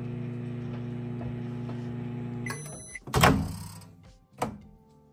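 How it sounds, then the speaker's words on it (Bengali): A microwave oven heating tomato-date chutney gives off a steady, close electrical hum for a few seconds. It then ends with beeps, a click and the thunk of its door opening. "আমি এবার এটিকে আর একটুখানি মাইক্রোওয়েভ করে নেব।"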